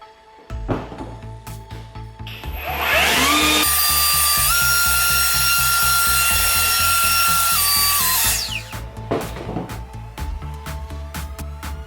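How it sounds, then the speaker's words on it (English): A cordless Works leaf blower whirs up to a loud, high steady whine for several seconds, then winds down, with clattering handling noises before and after. "with the cordless Works leaf blower"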